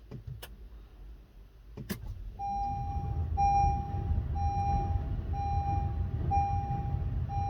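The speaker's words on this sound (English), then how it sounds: "let's go ahead and start the vehicle." A car engine starting during a dash cam installation: a couple of sharp clicks, then the engine catches into a steady low rumble that continues to the end, with a repeating electronic chime over it.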